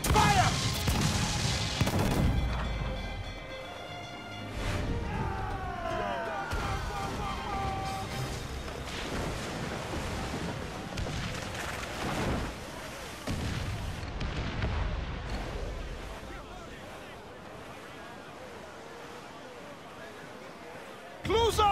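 Ship cannons fire in repeated booming volleys at a small brig during an Assassin's Creed IV naval battle, loud and close, mixed with shouted crew commands, crashes and game music.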